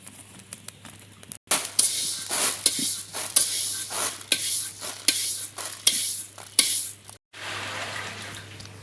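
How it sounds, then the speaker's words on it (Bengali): Rice dry-frying in a kadai is stirred steadily, giving repeated scraping, rustling bursts over a faint sizzle, close and fairly loud, with no talking. "আমার চাল ভাজা হয়ে গেছে, এখন নামিয়ে নেব।"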